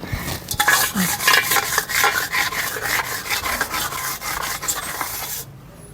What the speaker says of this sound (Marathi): बुडाला पण व्यवस्थित माती लावून घेते मी